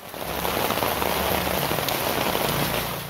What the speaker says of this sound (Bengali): বৃষ্টি হচ্ছে রাজধানী সহ দেশের বিভিন্ন জেলায়।